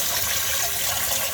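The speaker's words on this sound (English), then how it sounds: "Drain out the water completely and rinse it once more." Rice and moong dal are rinsed with running water, a loud, continuous close-up gush of pouring and splashing with no pauses.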